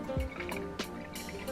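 Around 200 ml of water is poured into a homemade vinegar and lemon cleaning mix, making a soft, close, bubbling trickle with a couple of brief splashy pulses.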